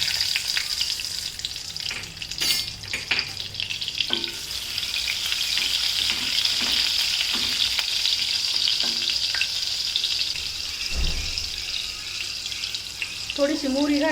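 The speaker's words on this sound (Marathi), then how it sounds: "हिरवी मिरची, लाल मिरची याची चांगली मस्तपैकी फोडणी द्यायची." Whole spices, green and red chillies, bay leaves and cinnamon crackle and sizzle in hot oil and butter for a dhaba-style rajma curry, a steady loud frying hiss with scattered pops, clinks and a brief watery splash near the end.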